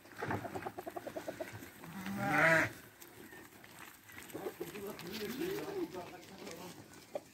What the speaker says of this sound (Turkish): şimdi koyunları salacak